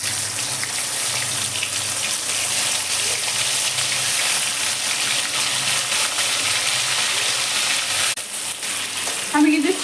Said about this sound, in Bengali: ওই তেলের মধ্যে আমি চিংড়ি মাছ কটা ভেজে নেবো।